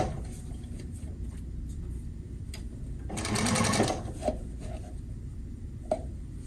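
A sewing machine stitches a box cushion slipcover in one short, close burst of whirring mid-clip, with soft handling and rustling of fabric before and after.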